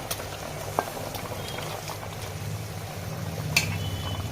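Hilsa and eggplant curry with slit green chillies bubbles steadily in a pan, a low continuous simmer with soft stirring scrapes and a couple of sharp utensil clicks.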